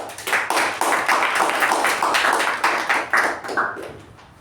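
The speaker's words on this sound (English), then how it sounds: "let's give a round of applause to you" A small meeting group claps in a sparse round of applause, individual hand claps audible in an uneven rhythm, fairly close, tapering off at the end.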